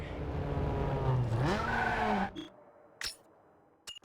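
A Corolla drifts in Need for Speed Underground 2 with a loud engine and a long tire squeal that rises in pitch, then cuts off to quiet, followed by a few brief clicks.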